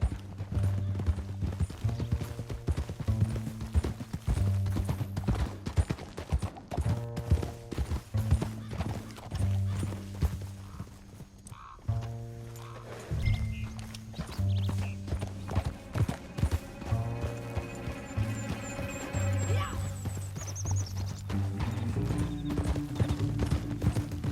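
Steady clip-clop of horse hooves trotting along under a swelling orchestral score in Red Dead Redemption 2, with an occasional whinny; no talking.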